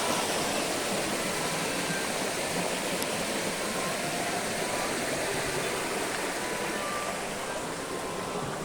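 River water tumbles about one and a half metres over a small drop between large boulders, a close, constant rushing babble with no break.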